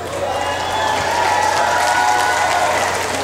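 A crowd applauds at a rock band show at a maple festival, making a continuous, loud wash of clapping with light cheering mixed in.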